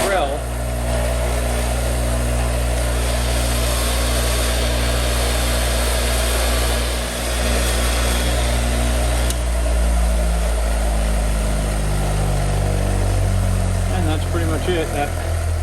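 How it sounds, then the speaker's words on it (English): A bench grinder runs cleaning the chuck of an old Signal drill type OB-4, giving a steady, close motor hum with a harsh grinding edge that shifts slightly in pitch, while a voice is heard at times. "then we'll go to the bench grinder and do the chuck"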